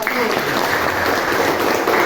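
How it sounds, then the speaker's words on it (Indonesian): Students in a classroom clap for a group after its presentation, a brief burst of applause with some voices mixed in. "tepuk tangan untuk kelompok"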